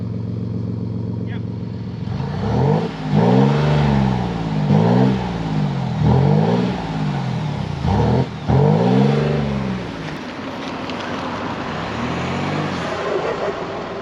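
A Ford Next Gen Everest fitted with a new aftermarket exhaust revs up, then again, then again, in a series of repeated throttle blips with rising and falling engine pitch. The engine is close and loud, then settles to a lower idle near the end.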